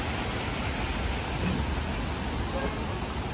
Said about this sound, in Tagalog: Oh, umuulan ulit? Di naman. Ay, umaambon.